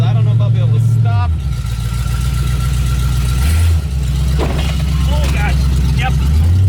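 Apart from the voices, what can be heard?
Chevrolet El Camino engine running and driving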